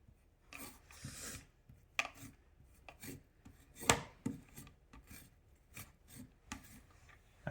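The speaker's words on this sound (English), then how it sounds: "here's a trick to peel ginger if you don't want to use a knife. Take a spoon and you just hold it in your hand and you pull." Fresh ginger root scraped with a hand-held spoon to peel it, giving a series of short, dry rasping scrapes at an uneven rhythm, close and fairly quiet, with a few sharper scratches and no talking.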